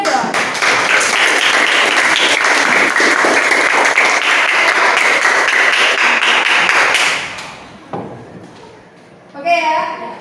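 A classroom of students applauds a presenting group, dense steady clapping for about seven seconds before it fades out and a voice briefly speaks.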